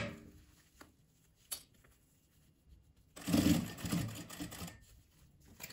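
A sewing machine stitches fabric scraps in one short, close burst of rapid mechanical whirring after a quiet stretch broken by faint clicks.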